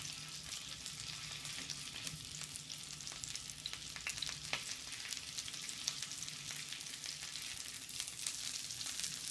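Wild duck breast sears skin-side down in a hot pan, giving a steady, dense sizzle with fine crackles and pops throughout, close and even, with no voices.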